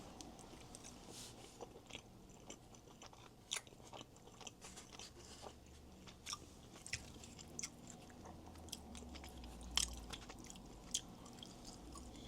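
Someone chews a mouthful of Ghanaian jollof rice with carrot, close and quiet, giving soft irregular crunches and squishy bites that come in small bursts over low room noise.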